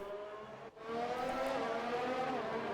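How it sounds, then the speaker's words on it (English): An F1 race car in the F1 2019 video game braking into the pits at the Australian Grand Prix, engine note dropping sharply with a brief cut, then a sustained downshifting whine as it slows. "Braking for this tight hairpin corner and into the pits"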